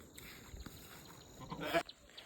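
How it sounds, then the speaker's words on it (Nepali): Sheep in a village pen give a few faint bleats over quiet background noise, with a louder bleat near the end. "भेडा रहेछ भित्र सुतिरहेको छ"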